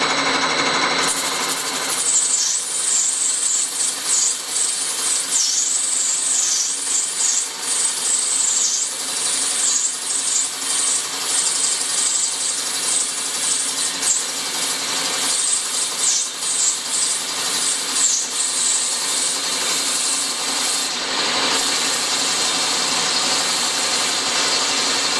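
A milling machine cuts a shuffle-pin hole into an air-cooled VW engine case, giving a steady, continuous high-pitched whine with a fluttering metallic squeal throughout, loud and close with no talk.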